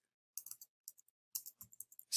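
Keystrokes on a computer keyboard while typing a git remote command, coming in short irregular bursts of sharp clicks separated by brief pauses, close and fairly quiet, with no voices.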